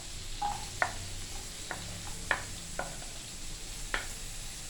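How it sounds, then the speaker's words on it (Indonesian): Spice paste, garlic and onion stir-fried in a pan with a steady sizzle and a few sharp scrapes and clicks of a utensil against the pan, spaced irregularly at close range. "Lalu tumis bahan halusan, bawang putih, dan tambahkan bawang bombay"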